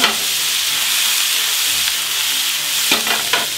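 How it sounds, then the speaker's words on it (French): Beef browning in a frying pan over high heat gives a steady, close sizzle and hiss throughout, broken by a few scraping stirs near the end. "on va faire revenir la viande"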